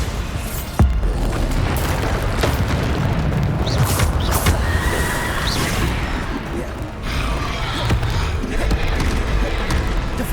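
Bombarda blasting spell explosions in the Hogwarts Legacy video game, loud booming blasts and crashes repeating through a dense, noisy combat mix with whooshes, no talking.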